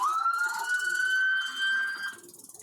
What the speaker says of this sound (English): sound of approaching backup sirens